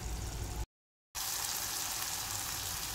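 A tomato and spice masala fries in oil with a steady, dense sizzle and crackle, briefly cut to silence before the frying noise resumes, close and continuous without any talk.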